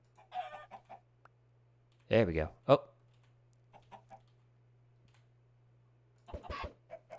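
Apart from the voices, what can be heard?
chickens clucking in a video game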